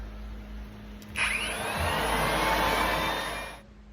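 Biocide is blown through HVAC ductwork, a steady whooshing airflow with a faint whine that starts abruptly, holds for a couple of seconds and then cuts off, in a quiet room with a low hum underneath.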